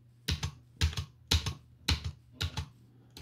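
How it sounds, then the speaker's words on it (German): A computer keyboard is struck hard in a steady rhythm, about six heavy clusters of close, loud keystrokes, with no talking. "Ja, ich hämme auf meiner Tastatur."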